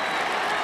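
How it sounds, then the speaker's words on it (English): A crowd roaring and clapping at a 1983 WAFL football grand final between Claremont and Swan Districts, a dense, distant wash of cheering and applause that is brief and steady. "a big cheer going up for Stan Nawatney"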